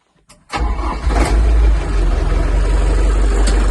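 A KATA tractor with a cab starting up: a short cranking catch, then the engine fires and settles into a steady, loud idle close by.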